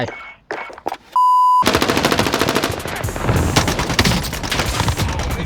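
C58 rifle fired in Warzone: rapid sustained bursts of gunfire, loud and close, following a short electronic beep, with the shots packed into a dense rattling stream.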